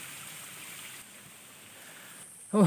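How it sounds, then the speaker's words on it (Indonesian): A clear forest waterfall makes a soft, continuous rushing hiss at moderate distance, and a short higher-pitched tonal sound cuts in briefly at the very end. "kapan lagi kita melihat air terjun yang jernih seperti ini"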